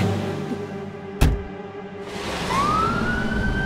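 Siren of a fire engine in an animated cartoon rises into a steady wail partway through, preceded by a brief sharp knock and layered over a busy backing soundscape.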